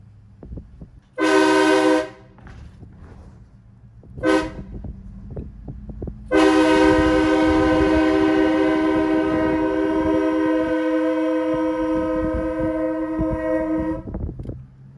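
A train horn mounted on a truck blasts loud and close in three bursts: two short blows, then a long sustained chord of about eight seconds that gradually weakens toward the end.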